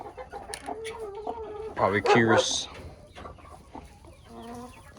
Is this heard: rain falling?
no